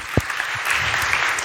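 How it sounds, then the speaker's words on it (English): Applause rises from an audience at a re:publica conference session as a speaker comes on stage, a brief, moderately loud wash of clapping with one sharp thump near the start. "please give a big round of applause for him"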